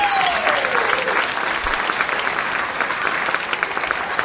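A large audience at a cancer support spring celebration applauds a singer, steady dense clapping that fills the room loudly and continuously, with a brief faint vocal sweep near the start.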